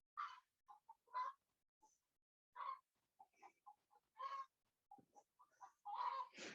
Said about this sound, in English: One of my chickens has come by to tell us she's laying an egg.